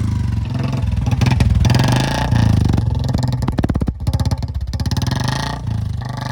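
A Royal Enfield Classic 350 motorcycle with an open exhaust fires up and settles into a loud, close, pulsing thump, with throttle blips rising and falling.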